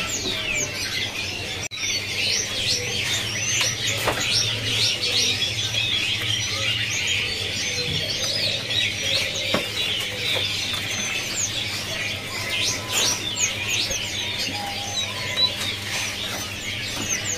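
A cililin bird chirps in high, rapid twittering bursts, fairly close and sustained across the whole stretch, with occasional sharp clicks and a low steady hum underneath.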